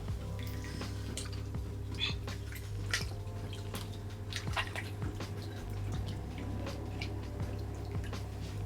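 Fifteen kilograms of chicken biryani, rice and chicken, stirred in a large pot, with wet squishing, dripping and scraping sounds recurring at a steady close range over a persistent low hum, and faint talk at moments.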